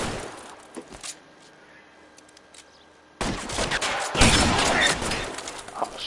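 Gunfire in the video game LA Noire: quiet ambience with a few scattered shots, then a sudden loud, continuous fusillade of crackling shots close by.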